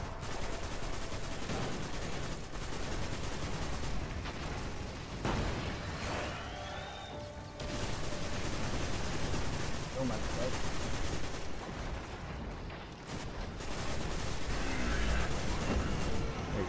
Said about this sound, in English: I'm gonna fire the fucking cannon.